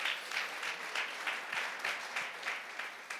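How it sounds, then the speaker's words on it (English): Audience at a sports innovation conference claps for the organizers, a moderate, somewhat distant patter of many hands with a loose, rhythmic texture that carries on steadily without talk. "You can give them a round of applause."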